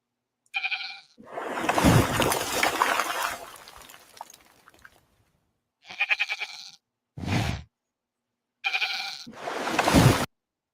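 Several loud goat bleats come from a clip played back on a computer: a short cry, then a longer harsh bleat, two brief calls, and a final drawn-out bleat, with silent gaps between them.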